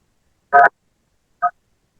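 Two short tonal beeps like telephone dialing or ringing tones, a longer one then a brief second after a pause, clear and alone with no talk, heard during a religious study session call.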